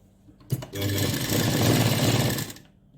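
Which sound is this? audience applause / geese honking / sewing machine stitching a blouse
sewing machine stitching a blouse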